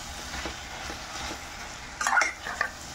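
Onions and potatoes sizzle gently in a pan for aloo peas samosa filling, with a low frying hiss and scraping stir strokes, then a brief louder clatter of a spoon against the pan near the end.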